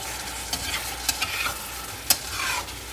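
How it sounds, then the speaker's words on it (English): Tofu and okra sizzle steadily in a pan while a utensil stirs and scrapes, with several sharp clinks against the metal, close up. "and I keep frying"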